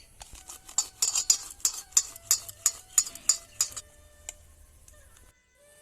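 Tomatoes are mashed with a kitchen utensil against a bowl, giving about a dozen quick rhythmic clicks and soft squelches close by, then stopping into near silence.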